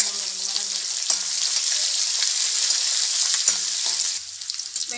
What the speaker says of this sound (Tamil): தக்காளி, பச்சை மிளகாலாம் போட்டு வதக்க போகிறேன்